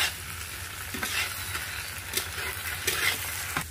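A paste of ground ginger, cumin and green chili sautés in a pan with a dense, bright sizzle, broken by a few spatula stirs and scrapes, close and steady.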